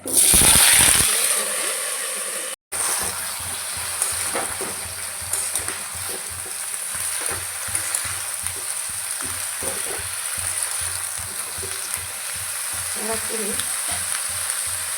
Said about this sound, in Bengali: ফোড়নটা হয়ে গেলে সবজিগুলো দিয়ে ফোড়নটা হয়ে গেছে